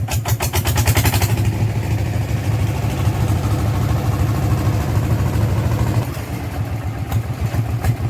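A modified car engine with a tuned setup starts and runs loud and close, a rough, throaty idle rumbling steadily with a brief burst of higher revving at the start and a slight drop in level near the end.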